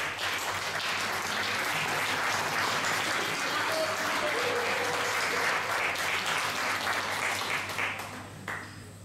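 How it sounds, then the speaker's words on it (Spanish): A church congregation gives congratulatory applause for a couple, sustained dense clapping at moderate level that carries evenly for several seconds and thins out near the end, with a faint steady hum underneath. "darle un aplauso de felicitación"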